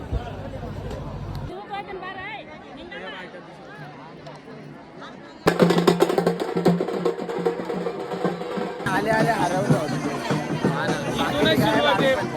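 Dense murmur of a large crowd at the Tuljapur pilgrimage fair, many voices and bustle swelling louder midway, with a person talking over it close by.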